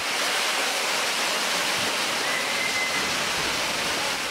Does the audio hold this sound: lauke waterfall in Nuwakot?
yes